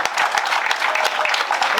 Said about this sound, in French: Applaudissements, mesdames, mesdemoiselles et messieurs.